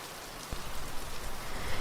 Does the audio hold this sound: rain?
yes